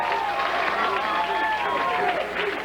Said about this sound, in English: he's got the crowd pumped up here in Wichita